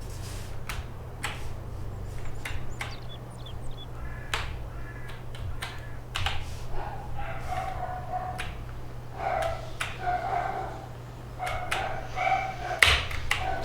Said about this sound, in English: Sorry everybody about the dogs barking in the background.